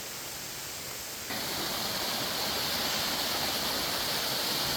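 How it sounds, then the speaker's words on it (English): Broad, steady rushing hiss of the waterfall at Ashmore Heritage Preserve, close and loud, swelling suddenly after a second and holding a constant roar, with no voices. "Ashmore Heritage Preserve waterfall."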